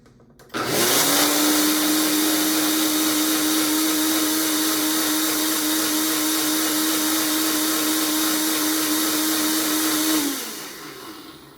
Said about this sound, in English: we're just going to blend it until it's totally smooth